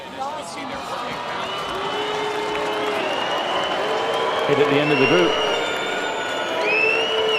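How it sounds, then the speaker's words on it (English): Ice rink arena crowd at the 1994 Lillehammer Olympic women's free skate, a steady roar of clapping mixed with booing and whoops, with a commentator talking over it throughout. "You can hear the mixture of claps and boos."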